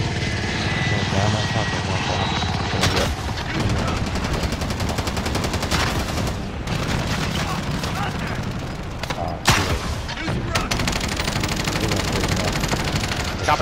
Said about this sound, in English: Good job with that helicopter earlier.